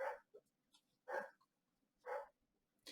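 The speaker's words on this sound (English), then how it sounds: "sorry, my dog is barking at somebody." A dog barks at someone indoors, four short separate barks spaced about a second apart, faint and slightly distant, with no talking in between.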